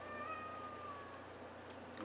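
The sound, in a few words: cat meowing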